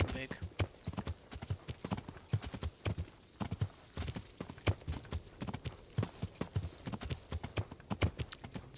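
A horse ridden in Kingdom Come: Deliverance clops along with steady, rhythmic hoofbeats, each strike close and crisp, keeping an even trotting pace the whole way through.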